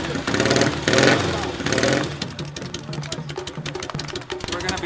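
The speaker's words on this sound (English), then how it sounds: "W1, that's the bike that started it all, and it's sounding really great." A vintage Kawasaki W1 motorcycle engine runs close by, with loud revving bursts early on, then settling into an uneven idle with sharp popping exhaust pulses, and someone speaking over it.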